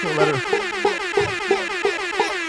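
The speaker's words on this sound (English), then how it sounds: "1 air horn, 2 air horns, 3, 4, 5, 6." A series of loud, blaring air horn blasts repeat in quick succession, each a brassy honk stacked one after another.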